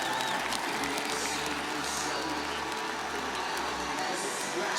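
Crowd applause for biathlete Sebastian Samuelsson at a biathlon race finish in Stockholm, a steady, fairly loud wash of clapping with a low hum beneath, continuous from start to end.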